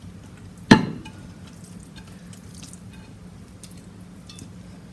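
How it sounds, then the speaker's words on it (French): Choux pastry dough is stirred in a large bowl, starting with one sharp wet slap followed by soft, faint squishing and scraping that continues quietly. "Transférez la pâte dans un grand bol et remuez 1 minute de plus pour refroidir la pâte."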